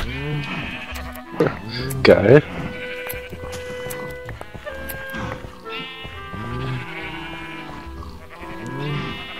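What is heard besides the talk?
shearing sound when shearing sheep in Minecraft video game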